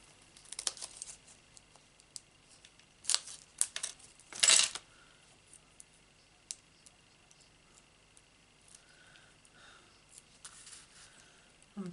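Scissors snip a small piece off the edge of cardstock in a quiet room, a few soft, brief cuts and paper rustles with long still gaps between them, with no talking.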